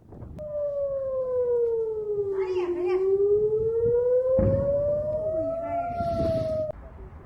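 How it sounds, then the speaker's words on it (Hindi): A civil defense siren wails across Israel during an Iranian missile attack, a loud, sustained tone that slides down, then slowly climbs back up before cutting off, with voices talking beneath it. "पूरे देश में सायरन बज रहा है।"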